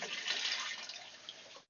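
Water flows steadily during an aquarium water change, a close, hissing, splashing stream that runs without talk and then cuts off abruptly.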